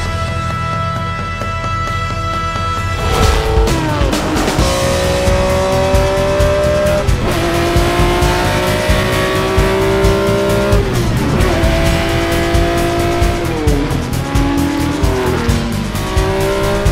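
Race cars on the Le Mans circuit during the Tour Auto 2024 event, engines roaring loud and close after a quieter opening, with repeated rising revs, gear changes and tire squeal as cars overtake.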